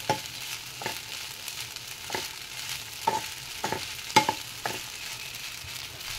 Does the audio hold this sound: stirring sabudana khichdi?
yes